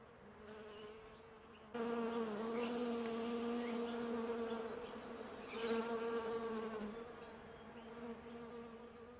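Honeybees buzz around their hives in a steady, droning hum that swells as more bees fly close, continuous and fairly near with no talk.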